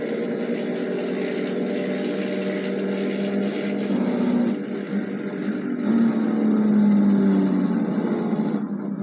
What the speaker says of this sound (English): at least we get to hear the Jakes.